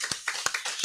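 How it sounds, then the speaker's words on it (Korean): A handful of sharp, separate hand claps ring out from a congregation during a Korean church service, spaced unevenly, fairly quiet, with no talk over them. "하나님 앞에 감사와 영광의 박수를 돌리겠습니다"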